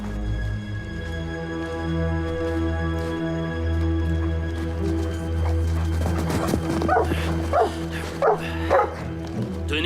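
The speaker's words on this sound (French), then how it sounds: "Tenez votre chien." A dog barks repeatedly outdoors in a forest setting, loud and close, with a burst of sharp yips and barks toward the end over a steady low hum.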